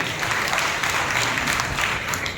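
A congregation claps together during a Telugu Baptist church Sunday service, a dense, continuous burst of applause filling the room for a couple of seconds.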